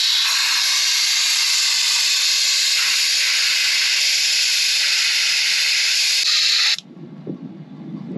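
Air hissing out of a car or caravan tyre through a valve deflator, a loud continuous high hiss that cuts off sharply, leaving quieter rumbling noise.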